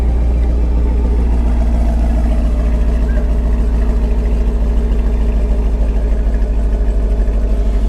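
A Gen 6 Camaro SS V8 idling with a deep, steady burbling rumble through a loud aftermarket NPP exhaust, close and continuous with no talking.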